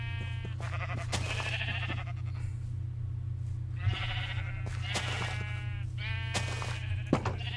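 In Minecraft, several sheep bleats, loud and close, come in bursts over a steady low hum, with short gaps between calls.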